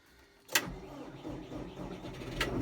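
A John Deere 5085E tractor idles to warm up on a cold morning before snow: a steady, low, fairly quiet engine drone with a sharp click near the start and another later.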